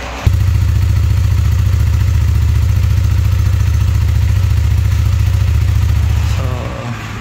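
A Yamaha MT-03 motorcycle with its original stock muffler runs loud and close, a steady, deep, pulsing idle that starts abruptly and holds evenly until it shuts off near the end.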